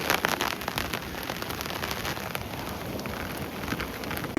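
Steady rain pours down in a continuous, even hiss of drops striking surfaces, fairly faint and unbroken throughout, with no voices.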